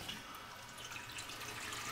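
Steady running water from a tap, switched on via a SureStop iWater Control leak detector shut-off valve, a continuous broadband hiss with faint splashing, fairly close and unbroken throughout.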